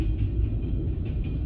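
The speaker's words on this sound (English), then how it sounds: "Goddamn fucking train." A heavy, continuous low rumble of a passing train, steady and close, with no voices.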